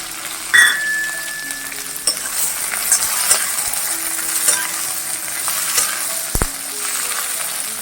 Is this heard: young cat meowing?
no